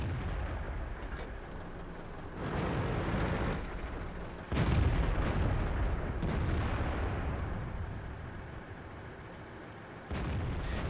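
Tank cannon shots in a World of Tanks–style battle game, several heavy booming blasts at irregular intervals over a constant rumbling engine and ambient din, fairly distant-sounding and without speech.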